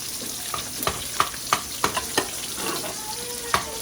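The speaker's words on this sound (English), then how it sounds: "Stir this up." Food stirred in a cooking pot over heat, a series of close scraping, knocking strokes about every third of a second over a soft sizzle, with no voices.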